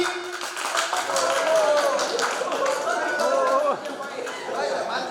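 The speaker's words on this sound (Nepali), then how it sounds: "उहाँको लागि जोरदार ताली" Clapping rises from a crowd at a Singing Star grand finale to honour the best performer, sustained applause mixed with chatter and a voice talking over it.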